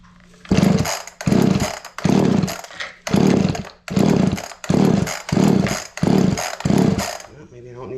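Someone repeatedly yanks the pull cord of an Echo 280e chainsaw with the choke pulled out, making about eight rhythmic rasping bursts up close as the engine turns over without catching.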